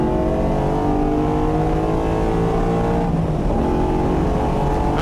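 A big V8 engine in a 2017 Ford Mustang FP350S race car revs hard and continuously on track, its deep roar rising and falling in pitch, loud and close throughout.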